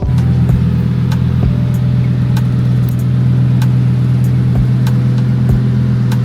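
A Lamborghini Huracan with a 5.2-litre V10 runs loud and steady, its strong low engine drone holding throughout with several sharp transient pops or clicks, up close and without talk.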